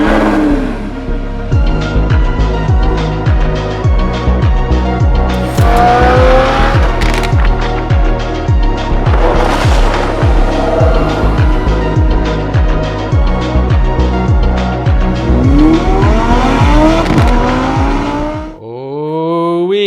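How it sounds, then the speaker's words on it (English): A Lamborghini Huracan sports car engine roars loud and close, revving hard with rapid rising and falling pitch sweeps and sharp throttle blips, ending with a brief drop-off. "This is the Lamborghini Huracan."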